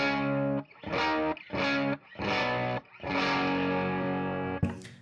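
Electric guitar strums basic E-shape chords through a first-stage overdrive, played as several loud sustained chord hits separated by short gaps, with a brief scrape at the end.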